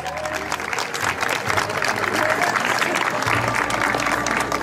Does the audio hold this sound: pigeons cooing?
no